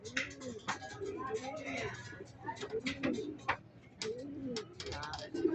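Six homing pigeons back from a release at Sariaya cooing in a loft, repeated soft throaty coos close by with clicks and rustling, someone talking faintly over them.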